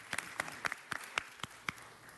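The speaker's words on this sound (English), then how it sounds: "let's give them a round of applause." Sparse, separate handclaps from a small audience at a city council meeting, about eight sharp claps at uneven intervals, faint and somewhat distant, with no voices.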